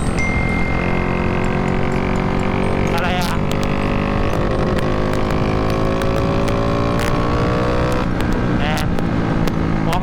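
A motorcycle engine revs hard on a ride behind a dam, loud continuous drone with repeated pitch sweeps upward, plus brief sharp gear-shift bursts near the middle and end; wind-blasted and close.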